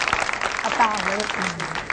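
Applause at a camp for gifted children breaks out and holds steadily for a couple of seconds, with a voice speaking over the clapping.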